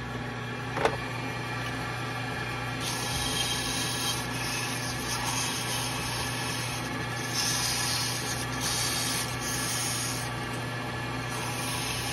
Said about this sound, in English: I'm gonna do piece of sandpaper.